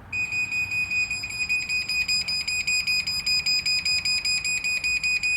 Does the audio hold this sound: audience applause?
no